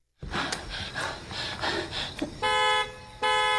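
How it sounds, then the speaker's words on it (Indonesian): A car alarm sounds in two loud, sustained honking bursts, following several seconds of heavy, close breathing. "Sarah mengambil kunci mobil dan menghidup alarm mobil"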